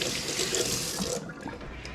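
Tap water runs hard over tomatoes being washed in a sink, a loud close gush that cuts off partway through, leaving a few light drips and splashes.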